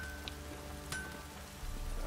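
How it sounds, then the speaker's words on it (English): Light drizzle in the Witcher III game world, a soft steady patter of raindrops with faint ambient hum and a few brief louder taps, no speech. "It's drizzling."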